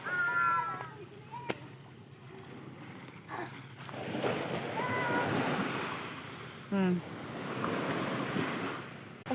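Ocean surf rolls onto a beach in a steady wash, mixed with wind buffeting the microphone, while voices and faint chatter come and go in the background.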